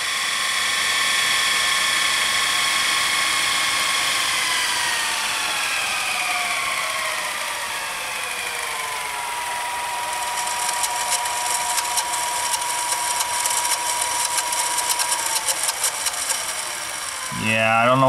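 Sony SLV-N51 VCR fast-rewinding a tape with an odd noise: a steady high-pitched mechanical whine that slides downward in pitch while spinning, then a fluttering buzz joins near the end before a clunk, close and continuous.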